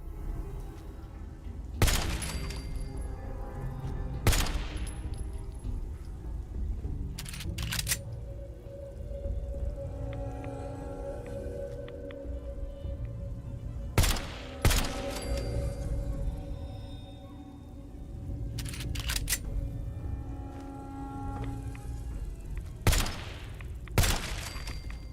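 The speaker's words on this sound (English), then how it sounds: "I fire a single shot and reload every time" Single gunshots in Fallout 4 ring out one at a time, each sharp crack followed by a quieter reloading clatter, spaced a few seconds apart over a calm in-game background hum.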